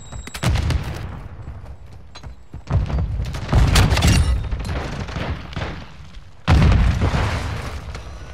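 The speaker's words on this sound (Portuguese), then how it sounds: "Essa bomba só pega o mapa inteiro." Deep booming bomb explosions in Call of Duty Modern Warfare II, three loud blasts with rumbling tails, the last near 6.5 seconds the strongest.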